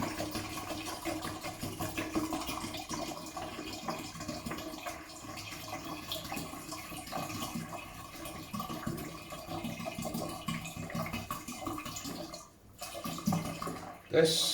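Still spring water poured into a batch of dark fruit cider, a quiet steady splashing trickle that runs for several seconds, with people talking intermittently over it.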